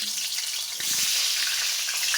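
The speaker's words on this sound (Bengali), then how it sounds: "সামান্য একটু হলুদ দিয়ে পটলগুলো ভেজে নেব" Pointed gourd (potol) pieces frying with a pinch of turmeric in oil in a wok, a steady bright sizzle throughout with a brief stirring clatter near the middle, no voices.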